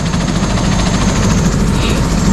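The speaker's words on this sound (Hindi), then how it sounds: "हेलीकॉप्टर यहाँ से आपको उत्तराखंड के गूंजी गांव पर ड्रॉप करके चला जाता है" A helicopter lifting off from a mountain landing site near Gunji village in Uttarakhand, loud and close with a continuous roaring engine and rapid rotor chop that fills the whole stretch.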